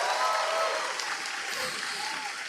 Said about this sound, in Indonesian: boleh nggak tepuk tangan yang terkesima dengan kecerdasan Pak Tom